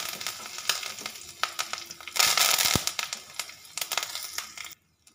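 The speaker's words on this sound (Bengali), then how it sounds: "এতে আমি দিয়ে দিচ্ছি সর্ষের তেল। এতে দিয়ে দিচ্ছি 1 চা চামচ গোটা জিরে, শুকনো লঙ্কা, সর্ষে, হিং," Cumin, dried chili, mustard seeds and asafoetida sputter in hot mustard oil, crackling pops and a sudden loud burst of sizzling midway, close, then fading to abrupt silence at the end, no talking.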